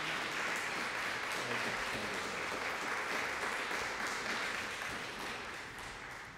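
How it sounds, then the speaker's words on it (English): Warm sustained applause from an audience at a district community meeting welcoming a senior pastor, steady at a moderate distance and tapering off softly at the end. "Won't you give him a round of applause and just welcome him?"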